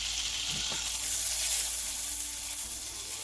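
Tarragon browning in a hot pan sizzles and fries steadily, a bright crackling hiss with a couple of brief stirring clunks near the start.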